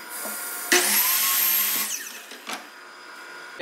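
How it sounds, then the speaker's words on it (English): A power saw cuts a 3/4-inch-thick, 3.5-inch-wide wooden board to length for a birdhouse: the motor whines up sharply, cuts for about a second, then winds down, followed by faint knocks. "First thing we're going to do is cut this board to 42 inches."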